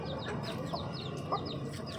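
Several chickens cluck and chirp softly at a distance in an ongoing, overlapping chatter, with one slightly louder call near the end.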